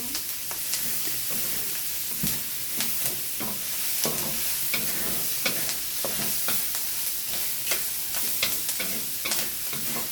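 Garlic and onion sauté in a pan for pancit bihon canton, a loud constant sizzle with frequent spatula scrapes and clinks throughout.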